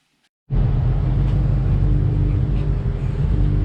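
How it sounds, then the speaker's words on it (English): Loud, steady rumble of engines and traffic noise at a service station, starting suddenly after a brief quiet moment and continuing without pause. "Sorry about the noise, but it is the service station."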